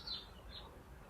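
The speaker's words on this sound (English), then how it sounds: "Different birds produce different sounds depending upon what they want to communicate." Songbirds chirp in brief high tweets, two short calls standing out faintly over a soft, steady outdoor background with no talking.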